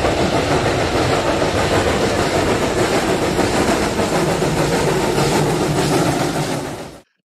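A 1918 steam locomotive in regular service in Germany rumbles past, a loud continuous rolling noise with clickety-clack from the wheels and engine, holding steady before cutting off abruptly at the end.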